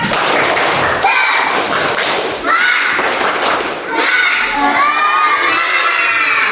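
A classroom of schoolchildren shout a rhythmic spirit chant together, loud and close, with thumping claps and cheering voices filling the whole stretch.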